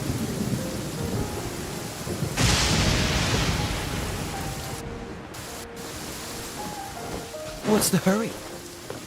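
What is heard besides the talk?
rain in the video game Genshin Impact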